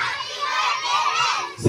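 A group of children shout together on command at a ninth birthday party, a loud sustained crowd yell lasting about a second and a half, with a sharper burst right at the end.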